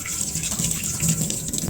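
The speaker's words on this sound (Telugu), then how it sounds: "చికెన్ కడుకోమా" A kitchen tap runs in a steady, fairly loud gush while half a kilogram of chicken for kadai chicken is rinsed, with no talking.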